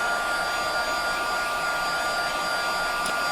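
A hair dryer blows steadily on a piece of paper cardstock, a loud, unbroken whirring roar with a fixed motor whine that holds for the whole span, with no voices.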